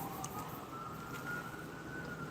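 A fire department siren wails faintly in the distance through a closed sliding door, its tone slowly rising and falling over a steady muffled background hum.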